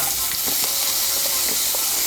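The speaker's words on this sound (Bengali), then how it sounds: "ওই তেলের মধ্যে আমি কাঁকরোলগুলোকেও ভেজে নেব।" Pointed gourd (kakrol) fries in hot oil in a pan, producing a continuous, even sizzling hiss with small crackles and no voices.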